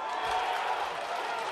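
A crowd at a Chicago Golden Gloves boxing final roars in a steady, dense wash of voices, loud and sustained throughout.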